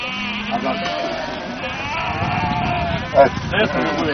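Sheep being divided up bleat close by while people talk over them, one sharp bleat standing out briefly toward the end.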